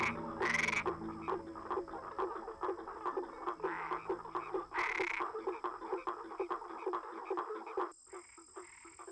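Frog mating calls in the Atlantic Forest, a dense chorus of rapid repeating croaks and clicks with a couple of louder drawn-out calls, steady and close throughout.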